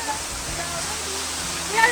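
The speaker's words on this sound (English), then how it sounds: "This is the whole waterfall," Steady broadband roar of a whole waterfall in cold weather, constant and fairly loud throughout, with a faint low voice underneath.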